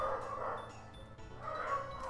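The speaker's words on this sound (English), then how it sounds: "how my doggos are barking inside interest" Pet dogs bark and yip indoors in a couple of bursts, fairly close and moderately loud against a quiet room.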